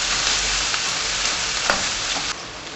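Bamboo shoots and poultry stock sizzle in a pan, a steady close hiss of frying with a few soft stirring scrapes, no voices.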